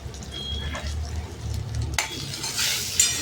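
Curry leaves sizzle in hot oil in a kadhai along with finely chopped tomato pieces, stirred steadily with a spoon; a continuous close frying hiss with scraping, growing brighter and louder near the end.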